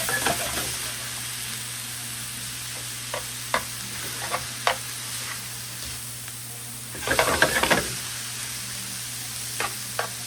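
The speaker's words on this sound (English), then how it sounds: "We want the beef to cook." Beef and cheesesteak ingredients sizzle steadily in a pan, with a louder burst of frying and stirring around the middle and scattered clicks of a utensil against the pan.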